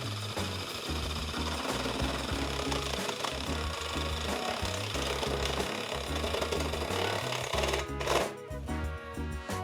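A power drill's step bit grinds steadily into stainless steel with a loud, rattling chatter that continues without a break. No one speaks.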